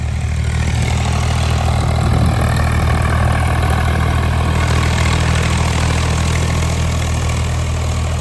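A New Holland 3630 tractor engine runs steadily up close, a loud, constant low diesel drone and rumble with no letup and no voices over it.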